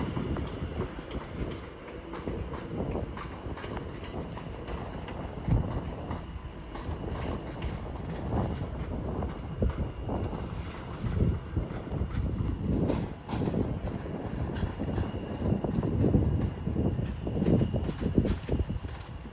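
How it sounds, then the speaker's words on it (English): A British Rail Class 730 electric train, two sets coupled, departs Watford Junction on the West Coast Main Line toward London Euston, a rising rumble with rhythmic wheel clatter building steadily and heard alone. "Leading the front set is 730-011 with 730-005 as off goes the 1700 Lioness Line service to London Euston."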